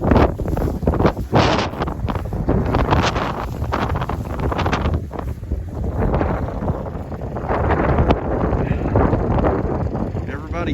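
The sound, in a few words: wind during a winter storm on a Kentucky farm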